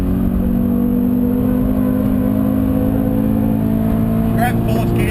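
Subaru BRZ engine on a race track, a loud steady in-car drone as the car accelerates, with someone commentating over it.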